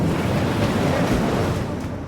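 Sea waves and fast-moving tidal water churn around the needle-sharp rocks of Scare Point, a loud, continuous broadband wash with wind noise, close and unbroken.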